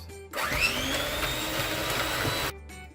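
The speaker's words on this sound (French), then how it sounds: "Et ensuite on bat au fouet pendant 2 à 3 minutes." An electric mixer whirs into softened butter and vanilla sugar, a close motor whine that starts abruptly, holds steady for about two seconds, then cuts off.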